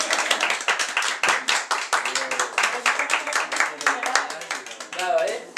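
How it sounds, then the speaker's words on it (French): Family members clap together around the table at an engagement dinner, a dense and steady patter of hand claps that stays close and lively throughout, with a few voices mixed in beneath. "Et la famille applaudit."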